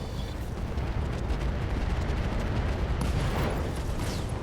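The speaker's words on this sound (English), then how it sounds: "Nope, AC-2 ammo explosion." Autocannon (AC-2) ammunition exploding inside a mech in the video game RogueTech, a loud, dense, rumbling roar of blasts sustained throughout, with crackling bursts layered on top.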